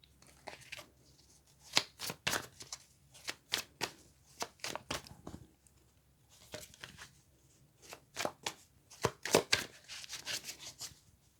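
Tarot cards are shuffled close up in quick, crisp bursts of riffling and flicking that come in irregular clusters with short pauses between them.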